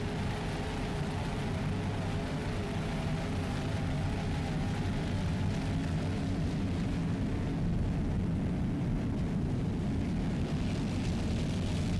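Racing powerboats, including an MTI raceboat, roar past in a continuous loud wash of deep engine drone and water noise that holds steady throughout, with no talk.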